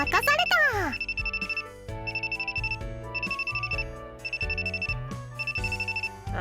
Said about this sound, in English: I'll follow Mary out into the corridor before answering my phone